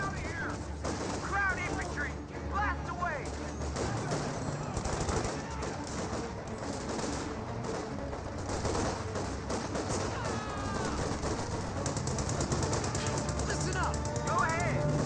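A Jeep's mounted machine gun fires rapid bursts in Company of Heroes 2 with the Spearhead mod, amid a constant din of battle gunfire, while a commentator talks over it.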